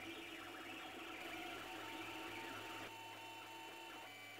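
An Ender 3D printer prints a cat figure, giving a steady, close mechanical whir with stepper-motor whines and tonal buzzing that shift in pitch as the print head moves, with no voices.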